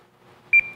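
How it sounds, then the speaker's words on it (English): HDE V-Watch proximity alarm giving a short beep pair followed by a sustained steady tone, close and clear over a quiet background, with no talking. "Beeps and flashing lights increase as they get closer, and then it goes solid."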